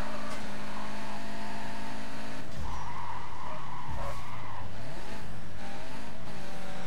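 A car in Need for Speed Carbon roars and revs through downshifts, with engine pitch dropping and tires squealing in a skid, loud and close, no speech.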